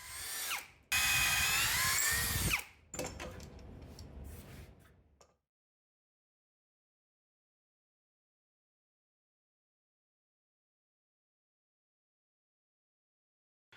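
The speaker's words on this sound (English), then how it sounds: "drilled 2 dowel holes for each mark" A power drill boring dowel holes in a cherry board for a live-edge bench, using a MilesCraft jig: a loud close whine in two short bursts, then winding down into silence.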